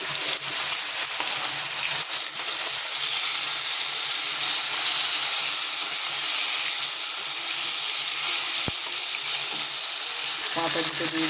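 Salt-and-turmeric-coated fish sizzles loudly in a pan of hot oil, an unbroken close crackle with one sharp tick and a little clatter near the end.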